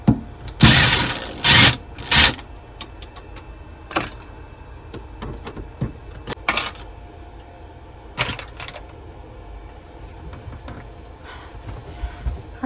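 Screws are driven out of a river table mold with a power drill in loud, close whirring bursts, then sharper clicks and knocks as parts are handled, and a quieter stretch follows.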